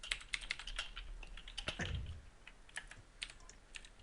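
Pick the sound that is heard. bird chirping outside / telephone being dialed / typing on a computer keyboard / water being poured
typing on a computer keyboard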